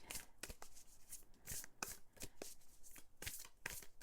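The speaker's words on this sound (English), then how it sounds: "I always like to fan the cards out when I'm just choosing one card" Oracle cards fanned out and handled one at a time for a reading, with a series of crisp, close papery snaps and slides at an irregular rhythm over soft background hiss.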